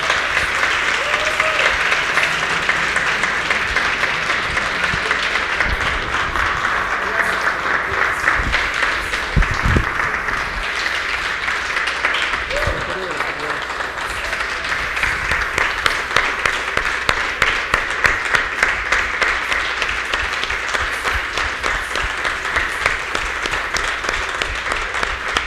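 A church congregation at a Sunday service applauds at length, a dense, sustained wash of clapping that holds steady throughout the clip with occasional louder claps near the front.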